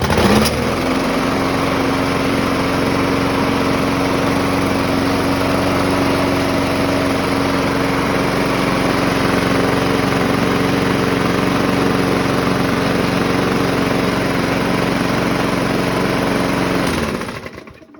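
Small lawnmower engine with a bent crankshaft running steadily close by for about seventeen seconds, a loud, rough droning hum with a vibrating buzz, then cutting off abruptly at the end.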